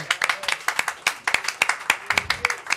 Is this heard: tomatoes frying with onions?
no